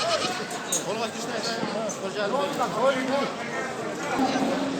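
Several goats bleat repeatedly, close and overlapping, at a livestock market in Osh, amid a busy crowd of people talking in the background.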